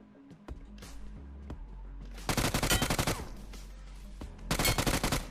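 Gunfire in the mobile battle royale game BGMI, with scattered single shots followed by two dense bursts of rapid automatic fire in a crossfire, loud and close, with no talk.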